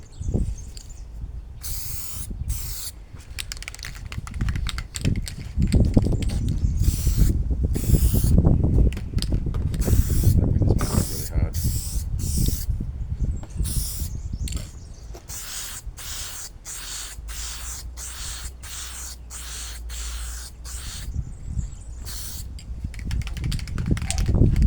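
A spray can laying clear coat on a painted 3D-printed RC vehicle part, with repeated short hissing bursts separated by brief pauses, close and fairly loud.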